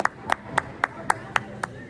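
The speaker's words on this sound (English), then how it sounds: "Big round of applause for all of them" One person claps slowly and evenly at a school awards assembly, seven distinct claps at a steady rhythm, fairly faint over a low background hum.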